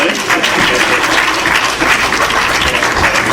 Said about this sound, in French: Un applaudissement pour Frère Fayot.